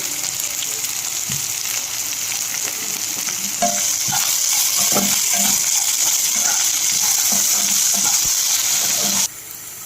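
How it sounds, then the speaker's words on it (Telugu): Potato masala for a bread dosa fries in a pan until browned, a loud, steady sizzle with intermittent scraping of the spoon, cutting off abruptly near the end. "ఇది కొంచెం బ్రౌన్ కలర్ వచ్చేదాకా వేయించుకుంటే"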